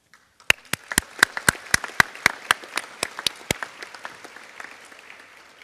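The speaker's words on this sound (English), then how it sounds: "So please help me to give them a round of applause" Sparse, sharp individual claps at a graduation ceremony, a dozen distinct hand slaps in an uneven rhythm over a faint background of scattered clapping, with no talking.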